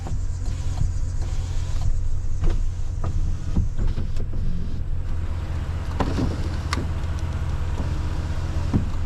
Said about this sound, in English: back window works.